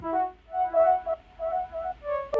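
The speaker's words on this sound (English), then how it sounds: "I'm adding this side chain here, which sounds like this." A side-chained synth phrase in FL Studio pulses in and out with a bouncy rhythm, short tonal notes swelling and ducking repeatedly, quiet and alone, ending on a sharp click.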